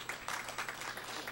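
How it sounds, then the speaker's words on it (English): A small audience at a weekly satsang gives a round of applause for a girl turning 16, with faint, scattered clapping in a modest, even patter over a short stretch. "Give her a round of applause."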